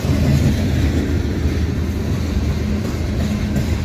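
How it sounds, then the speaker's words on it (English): A CSX freight train rolls past at night with a BNSF refrigerated boxcar in the consist, a loud, close, steady rumble of wheels and rail noise filling the whole stretch without pause. "Got a BNSF reefer coming up."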